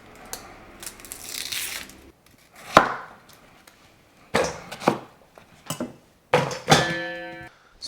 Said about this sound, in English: Some scallions, cut into like 1 inch.